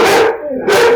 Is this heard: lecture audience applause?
no